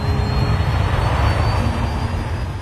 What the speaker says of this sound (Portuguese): O A380 é equipado com 4 enormes motores Rolls-Royce.